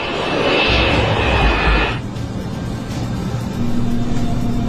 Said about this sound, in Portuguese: O 727 agora está na cabeceira da pista,